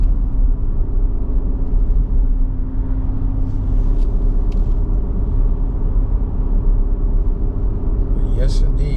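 A 2022 Nissan Armada Midnight Edition SL cruising about 40 mph on curving Rocky Mountain roads while towing an 8000 lb trailer, a steady loud low engine and road rumble from inside the cabin with someone talking over it.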